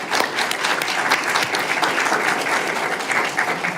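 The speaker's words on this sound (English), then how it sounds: "So I'm going to applaud that myself." Steady audience applause at a conversation event with Rep. Ro Khanna, a dense, even wash of many hands clapping at full volume throughout, with no voices standing out.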